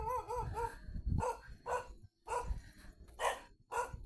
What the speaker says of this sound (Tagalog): May aso na pala dun.